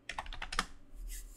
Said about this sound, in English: I type in this question.